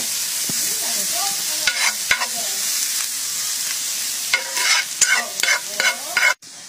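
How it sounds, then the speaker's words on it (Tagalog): Onions hit melted, slightly browned butter in a pan and fry with a steady close sizzle, broken by sharp scrapes and clatters of stirring, with no voices. "So idadag ko na itong sibuyas"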